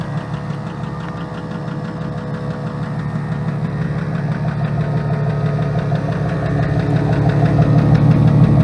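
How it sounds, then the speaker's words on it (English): A Jeep driving on a rough spring mountain road with a failing U-joint, its engine droning steadily with a rapid knocking, vibrating rattle that grows slightly louder throughout. "So that's what a failing U-joint sounds like."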